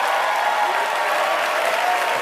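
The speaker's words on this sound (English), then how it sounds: "give them a round of applause" Sustained audience applause fills a large presentation hall, a dense, steady wash of clapping from a crowd with no pauses throughout.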